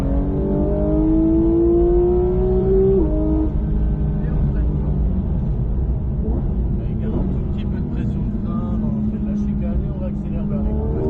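A car accelerates on a driving circuit at Lohéac, engine note climbing and then shifting lower, with a person talking over the steady engine and road noise.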